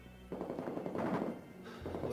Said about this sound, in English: The Spooky's shooting up some shit